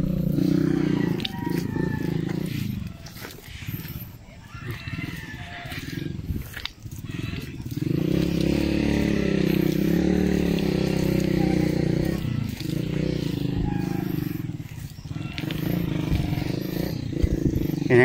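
A habal-habal motorcycle's engine strains hard with a loud, whining roar that rises and sags in pitch as it works, dropping briefly several times before surging again. Voices may be mixed in beneath the engine noise.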